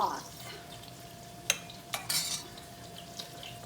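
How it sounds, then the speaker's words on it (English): A spoon stirs risotto rice in a pot of broth, with a few sharp scrapes and clinks against the pot at close range over a soft background hiss. "and continue stirring"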